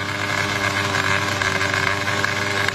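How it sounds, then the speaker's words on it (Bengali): A motorcycle engine runs at a loud, steady idle, a close, rough mechanical drone with a constant low hum and no change in pace, and no voices over it. "উচ্চ সাউন্ডে বাইক চালাবা কোনো সমস্যা নাই"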